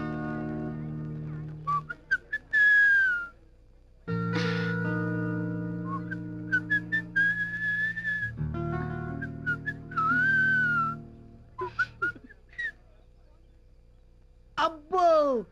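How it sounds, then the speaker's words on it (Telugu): A man whistles a song in a comic stage scene, with melodic whistled phrases broken by pauses and short sung or spoken bits, fairly close and clear. "ఈల పాట ఇంత చండాలంగా పాడొచ్చని నిరూపించావు కదరా"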